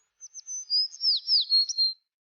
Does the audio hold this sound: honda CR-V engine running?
no